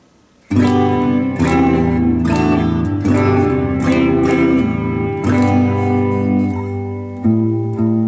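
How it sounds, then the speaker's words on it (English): Strummed clean electric guitar chords on both pickups of an AIO Guitars Wolf WLP-750T ring out with light reverb, steady and full, played up close with no voices. "clean, little reverb."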